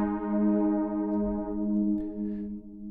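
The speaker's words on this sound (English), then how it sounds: "And now I'm going to start pulling down the filter." Synth tone in Studio One's Presence instrument with its filter cutoff being pulled down, a steady sustained harmonic note whose brightness gradually thins and darkens over about three seconds, heard alone.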